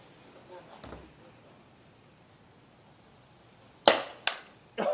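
During a 2v2 paintball game, a paintball gun fires a few sharp pops at moderate distance: two quick shots in succession, then another, over a quiet outdoor background.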